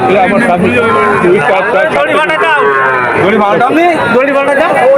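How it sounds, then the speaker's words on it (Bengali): Loud, repeated lowing of cattle close by at the Jethua cattle market in Satkhira, Bangladesh, overlapping with crowd chatter and voices talking throughout. "সুন্দর একটা গরু শুনেন"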